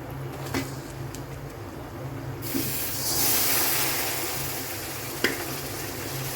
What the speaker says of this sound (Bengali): আমি চিকেনগুলো ছেড়ে দিচ্ছি।